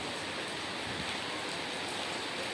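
Light rain falling as a drizzle, a steady even hiss of drops on surfaces with no variation and no voices, soft and continuous throughout.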